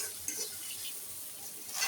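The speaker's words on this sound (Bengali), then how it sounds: "তারপর একটু নাড়াচাড়া করে পেঁয়াজটা ভেজে নেব" Sliced onions fry in oil with salt in a pan, giving a close, steady sizzle with light crackles as they are stirred.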